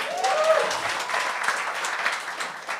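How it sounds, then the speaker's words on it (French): Audience applause and scattered cheering at a stand-up comedy show on a televised gong-show contest, a steady crowd clapping sustained for a few seconds without speech over it. "On applaudit"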